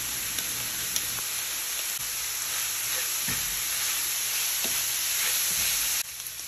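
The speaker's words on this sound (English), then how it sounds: "Once the onion is nice and brown, add in the ground beef." Ground beef and browned onion fry in a pan with a constant hissing sizzle and occasional sharp pops, heard up close and alone, ending with a slight drop in level near the end.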